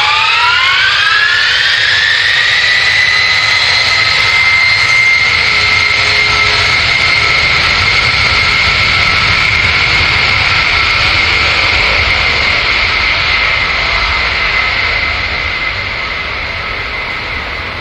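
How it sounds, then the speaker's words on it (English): Loud, steady roar of military jet aircraft engines near Andrews air base, a rising whine settling into a sustained high-pitched drone that fades slightly at the end. "It's been very loud because of the aircraft going off."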